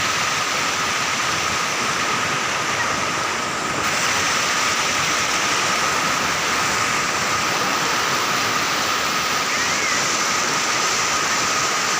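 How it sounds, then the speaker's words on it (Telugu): Loud, steady rush of floodwater pouring through a tribal area where no proper bridge exists, swollen by days of Cyclone Michaung rain; a continuous roar runs unbroken for the whole stretch with no voices. "చాలా వాటర్ అయితే వస్తుందండి."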